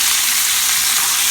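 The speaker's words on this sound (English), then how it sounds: "I'm going to tilt it down like this, and I'm just going to bathe those chops in that butter garlic sauce." Pork chops sizzle loudly in a tilted pan as they are basted with butter garlic sauce, a steady, close, unbroken hiss with no talking.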